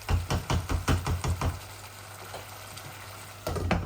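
Potatoes with pickle spices frying in a pan for a tilapia and potato curry, stirred in a quick run of knocking scrapes over a steady low sizzle, then a pause with only frying, and more stirring at the end.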